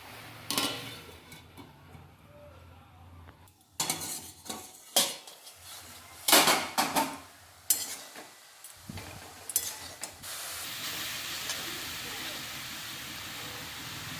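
Grass pea greens (khesari saag) are stirred with salt in a cooking pan, a series of sharp metallic scrapes and clanks, then a lid settles and steady frying sizzle continues.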